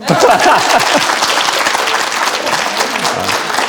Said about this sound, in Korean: 박수 한번 안 치세요?